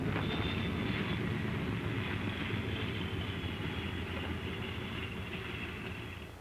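A pilotless drone aircraft lands on a flight strip in 1946 Operation Crossroads footage, its engine a steady, loud, continuous roar that tapers slightly at the end.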